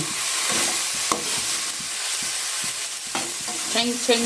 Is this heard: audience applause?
no